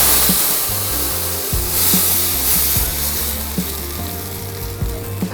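Asafoetida sizzles and crackles in hot oil, a close, continuous frying hiss with occasional soft knocks of a spoon against the pan.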